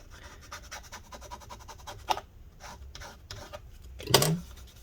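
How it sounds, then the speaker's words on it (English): A tool scrapes alcohol-soaked battery adhesive out of a 13-inch MacBook Pro A1708 case, giving soft, close rasping strokes in an irregular rhythm with a louder scratch midway and a sharper scrape near the end. "get all that rubbing alcohol into the adhesive, scrape it all out"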